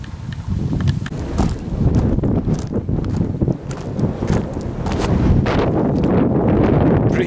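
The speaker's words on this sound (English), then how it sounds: "Breezy" Strong wind blows across the exposed hilltop of Moel Famau, a loud, steady gusting roar with buffeting on the microphone throughout, and no other sounds stand out.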